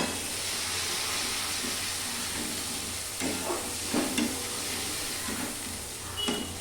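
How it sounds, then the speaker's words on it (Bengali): Mustard seeds stirred in hot oil, a dense continuous sizzle and hiss close up, with occasional spoon scrapes and light knocks against the pan, no voices. "সর্ষেটা দিয়ে একটু নাড়বো।"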